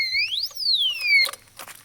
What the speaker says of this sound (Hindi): हमारा डिश लॉक अलार्म